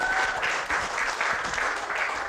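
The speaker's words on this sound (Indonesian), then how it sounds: "Tepuk tangan" Steady crowd applause fills the short stretch, a dense patter of many hands clapping at once without letup.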